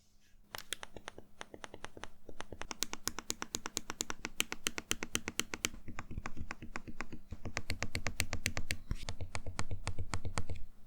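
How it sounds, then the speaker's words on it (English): Buttons on a Huion Inspiroy Dial 2 tablet clicked over and over in quick, sharp, close taps, running in rapid bursts with brief pauses between runs. "I feel like all the 6 different buttons have a unique click sound"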